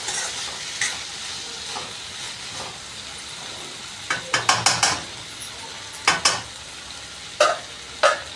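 Potato pieces are stirred into frying okra for a pepper fry: a low sizzle broken by bursts of quick spatula scrapes and clicks against the pan, close and intermittent.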